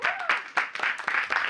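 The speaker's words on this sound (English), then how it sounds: "Give them a round of applause." Classroom applause from students, a few short uneven bursts of clapping at close range, with a voice briefly audible over the claps.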